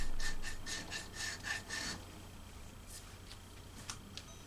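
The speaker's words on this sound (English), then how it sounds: "I'll use a file and then some sandpaper on that craft stick before" A hand file and then sandpaper work a wooden craft stick during a guitar neck reset, making a quick run of about eight close, rasping strokes that fade into softer, sparse scrapes.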